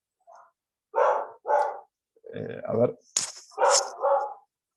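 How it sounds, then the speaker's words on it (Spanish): A pet dog barks a few times indoors during a physics lecture, short sharp barks mixed in with a man's speech. "Y esa es mi perro."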